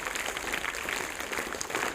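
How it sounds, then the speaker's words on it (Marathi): A school audience applauding, a dense, steady patter of many hands clapping at moderate distance for the whole moment, with no voices over it. "त्यांच्यासाठी जोरदार टाळ्या व्हायला पाहिजेत."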